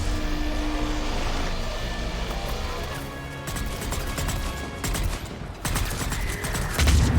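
Dense enemy gunfire in the video game Mass Effect keeps up a continuous, loud fusillade of overlapping shots and impacts, with sharper cracks near the end.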